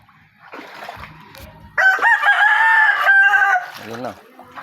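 Chickens crow and cluck close by around a chicken coop being built in a flooded area, with one loud, drawn-out rooster crow standing out in the middle among scattered clucks and faint background voices.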